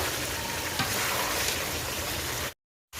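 Broiler chicken and pre-fried potatoes sauté together in a pan, producing a steady close sizzle and hiss that cuts off abruptly near the end.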